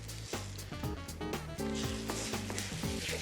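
Eggs with fresh parsley, basil and provolone are stirred in a hot pan, giving a steady sizzle with soft scraping under loud, continuous background music.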